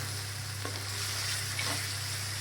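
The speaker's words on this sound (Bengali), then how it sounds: "কড়াইতে মাংসটাও দিয়ে দিয়েছি মাংসটা দিয়ে একটু কষে নেব" Steady sizzling of chicken frying in a wok, with a couple of brief scraping stirs partway through; no voices.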